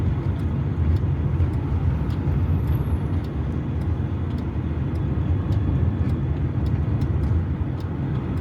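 Road traffic moving along Park Road in Islamabad, with one side closed for roadworks and vehicles flowing on the other, makes a steady, dense rumble and hiss that holds without a break and has no voices.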